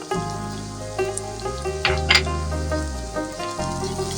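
Onion frying together with dried fish (shutki) in a pan as turmeric, chili and coriander powder go in, a loud steady sizzle with crackling pops and a few clinks and stirs, no talking.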